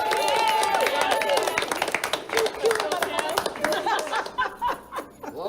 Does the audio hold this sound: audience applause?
yes